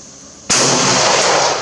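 An AK-12 rifle fires a single loud, sharp shot at a 300-yard target over open sights, sounding close and followed by a sustained bright wash of echo and reverberation.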